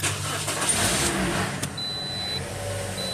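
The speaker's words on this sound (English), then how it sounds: "you're going to want to turn the car on." A 2007–2014 Toyota Corolla's engine starts during a coolant flush, a broadband cranking burst settling into a steady close idle with a faint whine.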